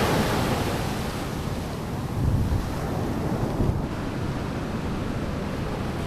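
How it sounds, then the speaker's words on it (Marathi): Steady roar of surf breaking on a Konkan shore, continuous and fairly loud, with wind buffeting the microphone and a couple of slightly heavier surges. "समुद्र लाटा मोठ्या येतात मध्ये मध्ये"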